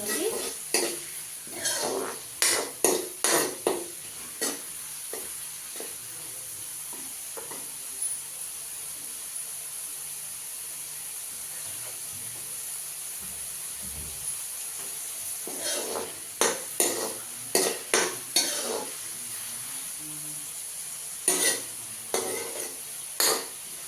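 Sliced onions fry in oil in a pan and get stirred again and again, scraping and clinking against the metal in bursts over a steady soft sizzle, with quieter stretches in between.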